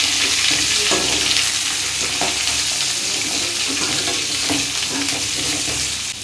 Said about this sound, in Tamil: எண்ணெய் ஊற்றினதுக்கப்புறம் கடுகு போட்டு கடுகு பொரியிற சவுண்டு